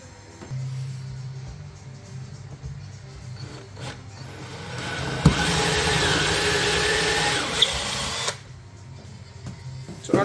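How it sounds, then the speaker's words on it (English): A power drill bores into a new oak stair tread during a staircase cladding renovation, the bit set about 13–14 mm deep; a steady, loud whirring grind lasts a few seconds, then stops. "You drill in your new tread."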